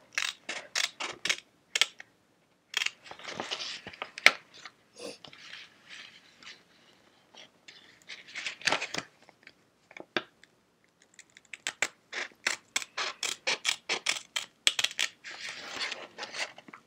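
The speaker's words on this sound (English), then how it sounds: "it's kind of fun cutting with this little scissors. It makes a nice, it's a more high-pitched sound" Small scissors snipping through freezer paper, rapid bursts of crisp, high-pitched clicks and cuts close by, pausing briefly between runs of snips.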